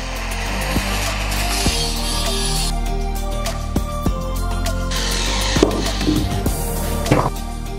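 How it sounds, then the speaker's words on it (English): A power tool grinds away imperfections on a homemade vacuum pump built from an old refrigerator, a continuous harsh whine broken by sharp scraping bursts and knocks, close and loud with no speech. "After I've built everything together, I grind away any imperfections."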